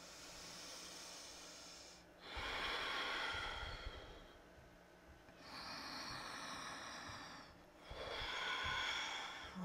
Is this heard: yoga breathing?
yes